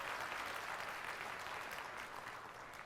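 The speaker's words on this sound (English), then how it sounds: "And you hear that crowd reaction too." Sustained crowd applause fills the hall at Nintendo's 2004 E3 press conference, a dense wash of clapping that fades slightly toward the end.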